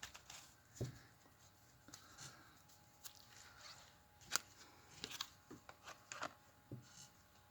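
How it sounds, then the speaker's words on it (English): A deck of cards being shuffled, faint soft riffles and taps in scattered bursts with quiet pauses between them. "Let's shuffle it one more time."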